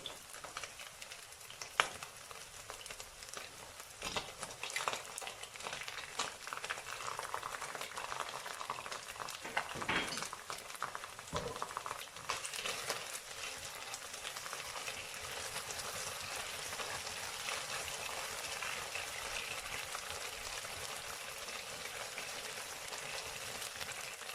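Tomato paste hits sausages frying in a pan and sizzles in a steady, close, broadband hiss, with some brief crackles and scraping stirs near the start and no talking.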